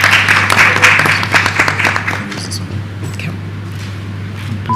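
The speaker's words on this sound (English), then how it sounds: "Can we give him a round of applause?" An audience claps briefly, the applause loud at first and then fading after a couple of seconds, over a steady low hum.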